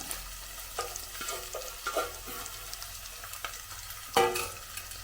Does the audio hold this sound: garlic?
yes